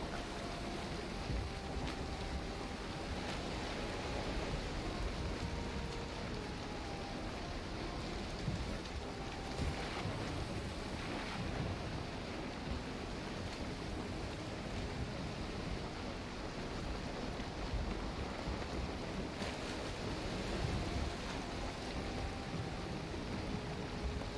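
A boat sails on the open sea in Valheim, with a steady wash of rain, wind and water noise that holds evenly throughout and no voices.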